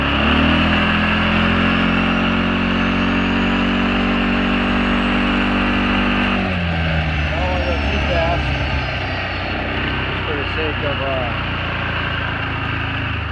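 A 2008 Kawasaki Prairie 360 4x4 ATV engine drones loud and close while being driven, its pitch steady then dropping midway as the ride continues over rough ground.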